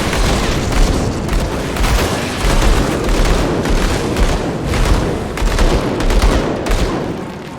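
Dual guns firing in the action game Grim Dawn, a dense, continuous barrage of rapid shots with booming impacts, loud and steady throughout with no talking.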